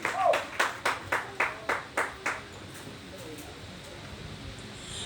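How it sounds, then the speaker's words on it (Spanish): Rhythmic clapping at a church service: about ten sharp, evenly spaced claps from a congregation that slow and fade out, followed by quiet room tone. "Denle fuertes palmas al Señor."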